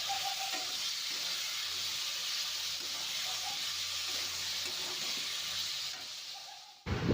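A ground spice paste of turmeric, chilli, cumin, coriander and tomato paste fries in hot oil, giving a steady, close, hissing sizzle that holds evenly throughout before a short stirring clatter at the end.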